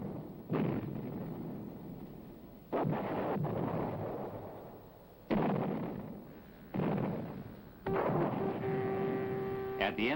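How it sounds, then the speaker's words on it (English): Heavy booms of a wartime mortar barrage in Italy, four big blasts a couple of seconds apart, each rolling off into a long rumble, with a tonal hum rising under the final burst. "The British infantry advances alone under the barrage of mortars."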